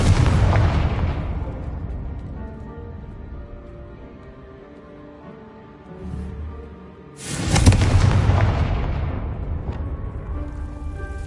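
A Confringo blasting spell exploding in the Hogwarts Legacy video game, two loud booming blasts several seconds apart, each with a long rumbling, ringing decay and no voices.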